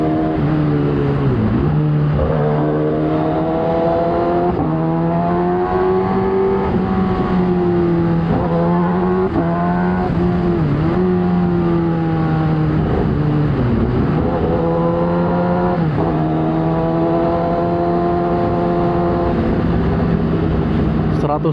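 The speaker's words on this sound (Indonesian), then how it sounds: "Soalnya knalpotnya ini bacot banget. Wow, turbo." A turbocharged car's loud exhaust drones and revs continuously at close range, pitch rising and falling through repeated gear changes, with a light whistle above the engine note.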